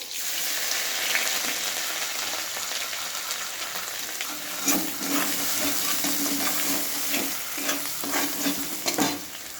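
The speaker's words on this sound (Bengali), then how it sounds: "এলাচ দারচিনি আর হচ্ছে দুটো শুকনো লঙ্কা ফোড়ন দিয়ে দেবো আদা কুচো" Cardamom, cinnamon, cumin and two dried chillies tempering in hot white oil in a kadai, a bright continuous sizzle with repeated spatula scrapes and stirring clatter, close and fairly loud.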